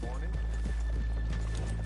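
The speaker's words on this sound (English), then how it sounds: "let's leave the horses here off the main drag" Horses in the Red Dead Redemption 2 game clip-clop at a walk, their hoofbeats steady and close over a low rumble, with a faint whinny in the mix.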